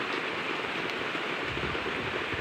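Heavy rain falling outdoors, a steady, loud, even hiss of drops that never lets up, with no voices.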